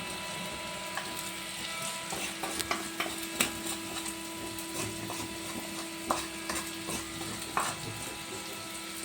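Coconut roasting in a pan for a duck curry makes a soft, steady dry sizzle with scattered scraping and stirring clicks close by. There is a faint hum and no talk.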